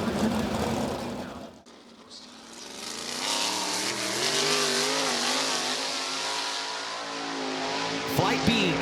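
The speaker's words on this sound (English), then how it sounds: "First car onto the racetrack." Dirt late model race car running laps on a dirt oval at Lernerville Speedway, a steady loud engine drone with rising and falling revs, partly under a track announcer's voice.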